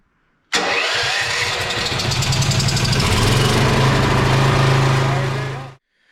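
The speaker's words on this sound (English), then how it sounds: "Turn on the gas. Let's see if she fires up." A propane generator running on LPG cranks and fires up after a carburetor rebuild, its engine catching abruptly and settling into a loud, steady close-up idle before cutting off.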